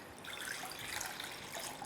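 Coconut water pours from a freshly opened young coconut in a steady, faint, continuous splashing stream with no break.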